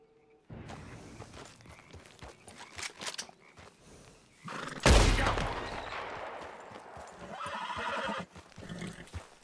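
A horse in Red Dead Redemption 2 whinnies loudly amid a dense game soundscape of hoofbeats and rattling gunfire bursts, with a sharp loud impact near the middle and steady busy action throughout.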